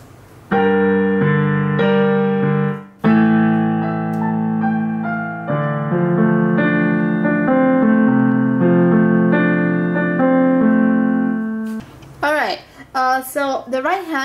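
Solo piano playing the Mia section of a song from La La Land, a slow sustained melody over held chords, close and full, ending in a brief voice speaking.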